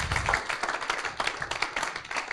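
Brief, fairly faint audience applause at a startup founder showcase, with scattered, uneven clapping over a couple of seconds.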